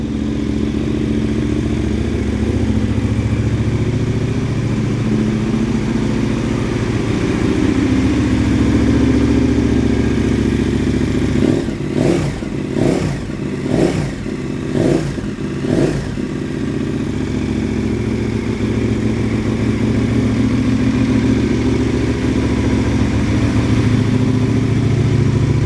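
A 2022 KTM 1290 Super Adventure R engine runs loud and close at a steady idle, with a quick series of five or so revs near the middle before it settles back to idle.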